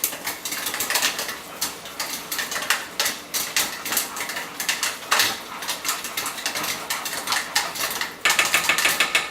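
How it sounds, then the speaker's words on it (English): Caramel being stirred in a pan on a home stovetop, with rapid scraping and clinking of a utensil against metal, close and fairly loud, with irregular bursts and no talking. "Stir up my caramel some."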